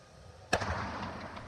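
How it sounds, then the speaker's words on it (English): A burning boat carrying fireworks and ammunition gives one sudden explosive bang, followed by a short crackling decay in the open air. "Witnesses captured the sounds of several explosions as firefighters bravely battled the flames."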